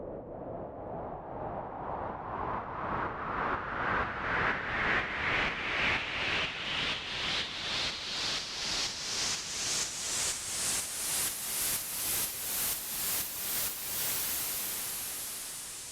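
A rising white noise riser pulses in a regular pumping rhythm, sidechain-compressed by a kick drum, ducking down on each beat and swelling back up, steady and continuous.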